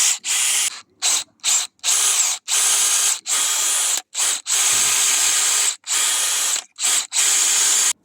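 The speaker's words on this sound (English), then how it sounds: "I'm going to go ahead, mark and drill" A power drill boring pocket holes in wood whirs in repeated short bursts, starting and stopping in quick succession, loud and close, with no talking.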